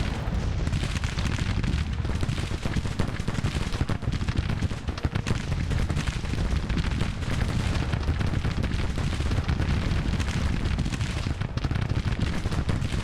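Massed musket and artillery fire from troops in Grand Tactician, a continuous loud crackling barrage with rumbling booms throughout, no voices.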